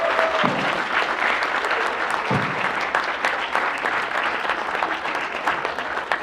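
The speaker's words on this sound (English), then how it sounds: "So please give yourselves a round of applause." A large audience claps steadily and densely for several seconds, a continuous wash of applause with scattered cheers and voices mixed in.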